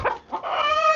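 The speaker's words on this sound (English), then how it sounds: "that chicken clucking is so loud" A chicken in a backyard flock clucks loudly right up close, a quick cluck followed by a drawn-out, rising squawk.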